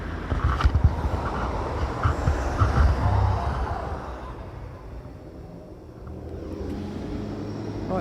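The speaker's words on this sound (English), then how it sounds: "The bus just pulled away, so let's see how that sounds." A bus pulls away on a street, its low engine rumble loud at first and then slowly fading into the distance, leaving quieter traffic noise behind.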